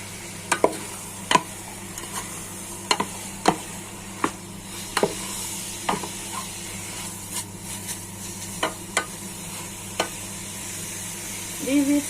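Hotdog and pork mince frying in a pan give a steady, close sizzle, broken by repeated sharp clacks of a utensil stirring against the pan.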